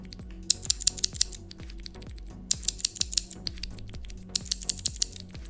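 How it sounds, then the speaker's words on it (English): Clicky blue-switch mechanical keyboard, a Digital Alliance K1 Meca 2.7 RGB, typed in three quick bursts of sharp, close keystroke clicks separated by brief pauses, with no voices. "You can actually hear the click. So if I put the keycap, the blue switches are clicky, and the red switches are silent."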